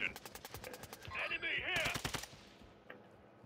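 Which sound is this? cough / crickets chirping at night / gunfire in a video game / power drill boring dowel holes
gunfire in a video game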